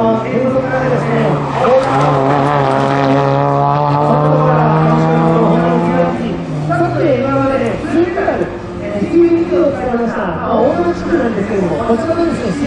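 Honda CR-Z race car with a 1500cc hybrid engine, revving and droning past on track, rising and falling pitch with tire noise, heard under a commentator talking over a crowded event.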